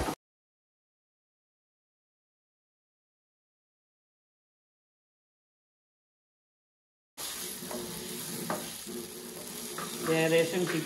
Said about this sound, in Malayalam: മസാല തേച്ച് വെച്ച ചിക്കന് ഇതിലേക്ക് ഇട്ട് കൊടുക്കാം.